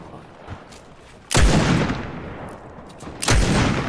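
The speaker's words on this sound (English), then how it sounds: "Oh, they shot me." Two sharp, loud gunshots ring out in a Fortnite match, the first a little past one second and the second near the end, each with a booming tail over a quiet background.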